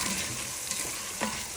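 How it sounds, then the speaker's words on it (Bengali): Onion frying in a pan, a dense hiss of sizzling oil with a couple of quick scraping strokes of a spoon, close and continuous. "পেঁয়াজটা একটু নাড়াচাড়া দিয়ে ভাজা ভাজা করে দিয়ে দিলাম লবণ"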